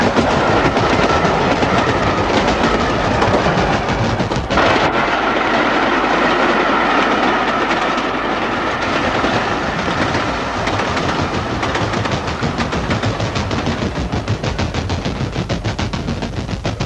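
A train running along the railway beside a London council estate near Battersea Park Road, a loud close rumble with steady clickety-clack of wheels over rail joints, continuing unbroken throughout.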